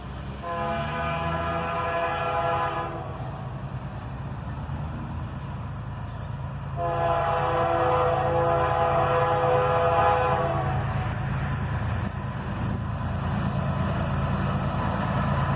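A single ES44AC locomotive hauls a manifest freight train, its horn sounding two long, loud blasts a few seconds apart over a steady heavy rumble of rolling wagons.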